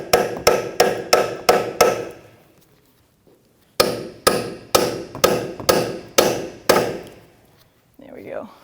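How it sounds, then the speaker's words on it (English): A cold chisel hammered against the ear of a steering knuckle on a 2007-2017 Jeep Patriot 2.4L, sharp metallic strikes in two rapid bursts of five and seven evenly spaced blows with a pause between. "with like a cold chisel, I'm just going to see if I can separate the ear of this"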